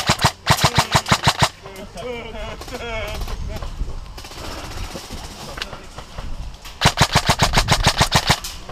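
An SSR-15 prototype rifle in a shooting game fires in rapid bursts of sharp, loud shots at the start and end, with a quieter stretch of other game sounds and talking in between.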